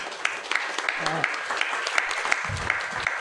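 An audience at a panel discussion on art and power in Southeast Asia claps steadily for the speakers, a moderate, continuous patter of applause with a voice briefly heard over it.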